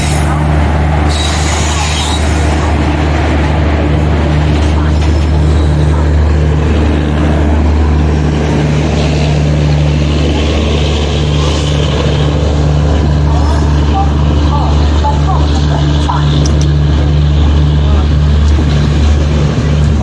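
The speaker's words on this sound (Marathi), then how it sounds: "मांडवी गाडी आली आहे." The Mandovi train pulls into a Konkan railway station with a loud, steady low rumble and droning hum as the carriages roll in. Wheels faintly squeal and voices murmur throughout.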